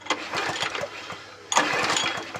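A Hayter 43 lawnmower engine, hydrolocked or seized, is pulled over by hand on its recoil starter. Two rapid bursts of close, rhythmic chugging are heard, the second louder, and the engine never fires.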